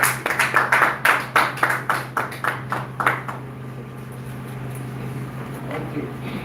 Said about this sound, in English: I'm able to ask you to give another one more round of applause.